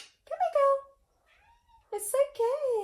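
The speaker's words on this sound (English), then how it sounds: "you can hear my cat crying" A cat meows several times, drawn-out cries close by, with a pause between two bursts of calls.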